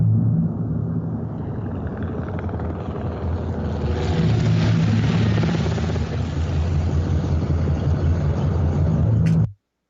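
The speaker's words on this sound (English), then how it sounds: "So I've added a singular helicopter to it" A helicopter's steady rotor thump and engine roar, loud and close, building slightly before cutting off abruptly at the end.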